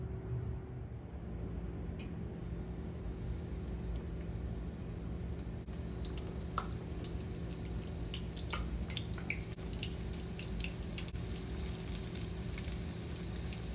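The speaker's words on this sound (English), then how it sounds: "I am frying them in vegetable oil on a medium heat." King oyster mushrooms frying in vegetable oil on medium heat, a steady, continuous close hiss of sizzling and crackling with scattered small pops throughout.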